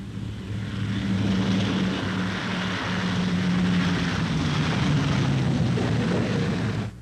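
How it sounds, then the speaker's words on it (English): A Boeing B-29 Superfortress bomber lands with its right outboard propeller feathered, a loud, steady drone of piston propeller engines holding close throughout with no voices. "One B-29 lands with a feathered right outboard propeller."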